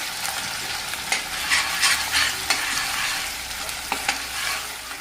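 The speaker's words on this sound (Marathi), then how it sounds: "लगेच आपल्याला मसाला याच्यामध्ये टाकून द्यायचं मिक्स घ्यायचा चांगला एक दोन मिनिटात बघा मसाला छान तयार होतो" Masala for a Maharashtrian egg curry fries loudly in a pan, a bright, dense sizzle broken by repeated scraping and stirring strokes close by.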